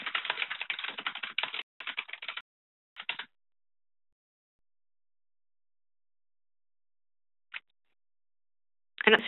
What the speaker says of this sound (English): Type keywords.